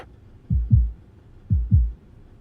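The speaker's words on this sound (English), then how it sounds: "Your Highness, can you hear my heartbeat?" Two pairs of deep, thumping heartbeats, a lub-dub followed by another a second later, close and soft against near silence, used as a sound effect in a game story.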